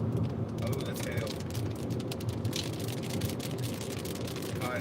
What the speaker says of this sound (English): Oh, that's hail.